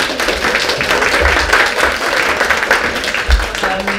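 Studio audience applause after a comedy game round hosted by Andy Kesson, a dense steady wash of clapping at moderate loudness with some low rumble and faint voices near the end.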